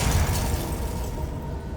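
A Confringo fire spell bursts in Hogwarts Legacy, a loud, dense explosive blast with rumbling low end that stays full and roaring for nearly two seconds, with no talk over it.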